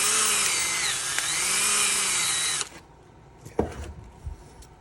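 A drill bit opens up holes in a small wooden carrying case for a jaw harp, a loud whirring drill with wavering pitch for over two seconds, then quieter bumps and knocks as it stops, close up with no talk.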